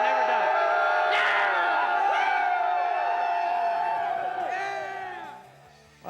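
A large crowd at a motocross race cheers and yells steadily, loud and continuous throughout, with individual shouts and whoops rising out of the roar before it thins at the end.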